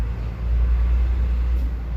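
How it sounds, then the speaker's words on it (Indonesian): A truck passes by outside, a low, continuous rumble that swells slightly and stays steady for a couple of seconds with no voices over it. "Maaf, ada suara truk"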